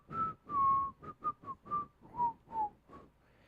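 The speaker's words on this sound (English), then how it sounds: "me whistling into that" Someone whistles a short, lilting tune close to the microphone, a series of clear rising and falling notes with brief gaps between phrases.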